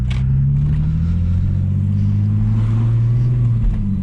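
A BMW Z4 drives along bumpy countryside roads in Hampshire, its engine a loud, steady low drone with pitch slowly rising and falling as it accelerates, heard close from inside the car.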